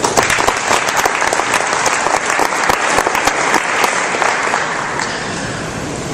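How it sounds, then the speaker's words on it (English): Dense, loud applause from a conference audience at an industry trade event, steady and sustained for several seconds with no talking, easing slightly toward the end. "Everybody needs to give yourself a hand of applause for that."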